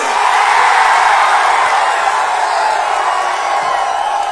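A dense crowd of party supporters roars and cheers at a Poompuhar political rally, a loud, continuous wash of noise that stays level throughout with no single voice standing out.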